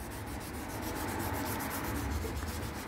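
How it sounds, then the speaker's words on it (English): Steady, continuous hand sanding with sandpaper on the bodywork of a 2009 Harley FXSTC motorcycle, rhythmic back-and-forth scratchy rubbing strokes, close and fairly loud, with no voices. "And when you're doing any sanding"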